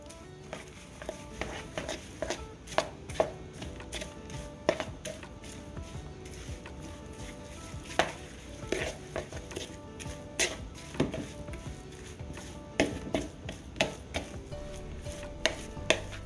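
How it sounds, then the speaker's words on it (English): Peanut butter dessert mixture being stirred in a bowl: a long run of irregular soft clacks and scrapes, utensil knocking against the container, steady and close, with no talk. "Then we're gonna stir this up."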